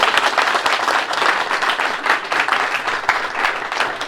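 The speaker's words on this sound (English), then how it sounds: "please, applause for the staff." A crowd applauds the staff at the American Library in Paris, dense overlapping clapping that stays loud and steady throughout, swelling slightly in waves.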